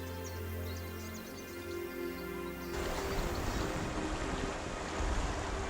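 A splashing waterfall in a canyon at Tongling, Guangxi, heard as a steady, loud broadband rush of falling water that fills the second half, after a stretch of music with softer water beneath.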